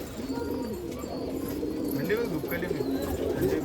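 An Allahabadi pigeon, a four-year-old bird kept at a pigeon festival in Nashik, coos in low repeated murmurs close by, over a steady crowd-like background hum and some talk.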